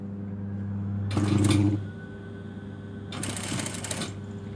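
Sewing machine stitching the hem of a trouser leg: two short bursts of rapid mechanical whirring, the first brief and the second longer, separated by a low steady hum, close by.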